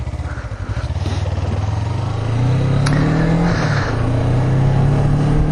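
A Suzuki V-Strom 250 motorcycle pulling away on a test ride, its engine pulsing at first then rising in pitch as it accelerates through the revs, loud and close to the rider.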